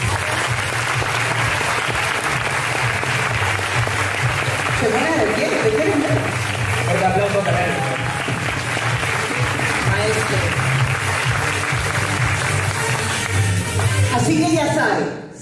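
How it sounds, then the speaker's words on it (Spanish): Loud, sustained applause from a large audience at a motivational training event, dense clapping filling the whole stretch without a break before it cuts off abruptly at the end. "Un fuerte aplauso, por favor, para José Salinas."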